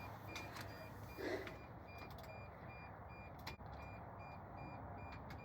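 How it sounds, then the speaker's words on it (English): Beeping from a machine just reconnected while its last small bolts are being fastened, a faint repeating tone over steady low mechanical hum, with no talk. "so you can hear the beeping, so you know we got something back connected"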